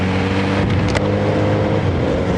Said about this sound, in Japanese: ゆっくり走ってる時のシフトアップ、非常にギクシャク感出ますね。